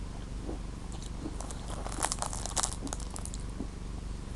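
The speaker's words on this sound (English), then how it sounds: "I'm cracking candy from it." Hard Red Bird handcrafted cotton candy crunched and cracked between teeth, scattered crisp crunches clustering in the middle, close and faint over a low steady background, with no talk.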